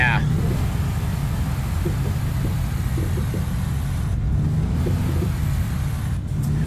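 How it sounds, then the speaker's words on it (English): Jake brake on a truck in the American Truck Simulator video game, a steady low rumbling engine drone held throughout at a constant level, with faint voices underneath. "I don't like the Jake on this truck."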